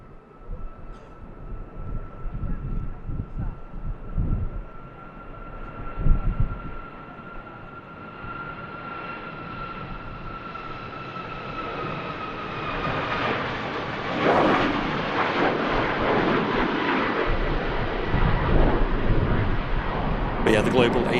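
An airliner departs Manchester Airport for Ibiza in strong winds, a steady distant jet roar that swells louder in the second half under ongoing talk.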